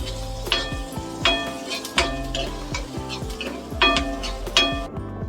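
A spoon scrapes and knocks repeatedly around a pan of frying potatoes with cumin, over a steady sizzle, in a close kitchen setting with faint background music.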